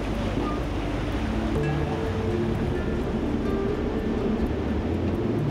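A boat sails close beneath the sea cliffs at Vestmanna in the Faroe Islands, with a steady, unbroken wash of waves and water rushing around the hull, along with a low rumble and some wind. No one speaks.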